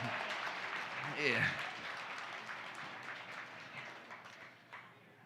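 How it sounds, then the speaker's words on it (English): Faint applause from the audience at a community crowdfunding event, a soft wash of clapping that lingers and fades gradually, with a voice speaking over it near the start. "you can clap for that"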